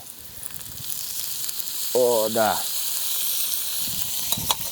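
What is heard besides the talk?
peppers and tomatoes sizzling in a frying pan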